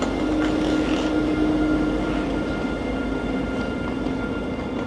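A locomotive uncouples and pulls away from a car-carrier train at Westerland station on Sylt, a steady loud rumble with a faint whine held throughout and no voices.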